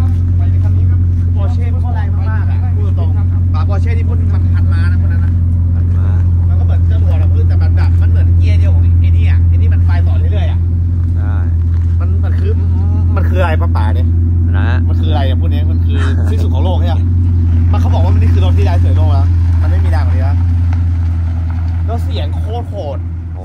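Porsche hypercar engine, loud steady low rumble and roar held throughout under an almost constant stream of excited talk from people inside.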